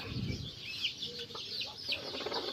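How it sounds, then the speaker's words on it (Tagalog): Two hens with newly hatched chicks in their nest cluck and murmur close by in short, soft calls, with a few brief chirps over a steady farmyard background. "Dalawang inahin"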